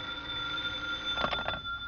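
An old-time radio drama telephone rings: a short burst of bell trills over a faint background hum, moderately near, with no voices.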